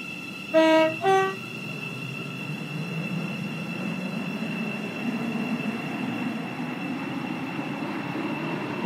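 Two short horn toots, then the steady rumble and hum of a Stepford County Railway game train running.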